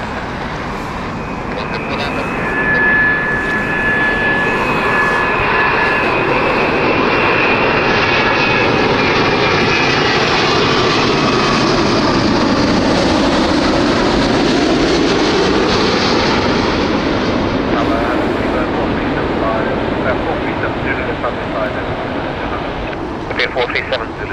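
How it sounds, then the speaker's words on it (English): A British Airways Boeing 787 departs Heathrow for Dubai, its jet engines a loud, sustained roar that swells and shifts in pitch as it climbs past, with a voice speaking over it at times. "Dubai flight next, 787 from British Airways"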